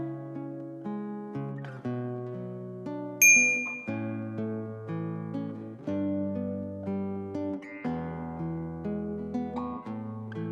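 A single bright notification-bell ding rings out once, short and clear, above steady background music.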